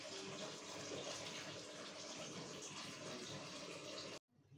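Water gushes from a tap into a bath for several seconds, a steady close rush that cuts off abruptly near the end.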